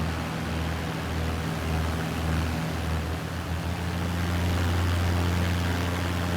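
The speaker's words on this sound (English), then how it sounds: "you heard a small engine prop plane flying around overhead" A small propeller plane engine in Microsoft Flight Simulator, flying over Missoula, Montana, holds a steady droning hum with a slight wavering throb, fairly loud and unbroken throughout.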